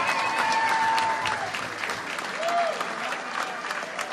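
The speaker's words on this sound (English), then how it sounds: "Big round of applause for Jim Brady, our" Crowd applause at Republican Larry Hogan's victory speech as newly elected governor of Maryland, steady clapping throughout with cheers and whistles, a voice briefly calling out over it.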